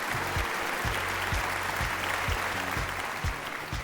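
Applause from a studio audience at a televised singing competition gala round, a dense steady wash of clapping that holds at an even level for several seconds, with faint low thumps underneath.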